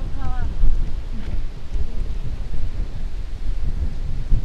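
Strong wind buffets outdoors near a dam, a rough low roar of gusts against the microphone that rises and falls throughout.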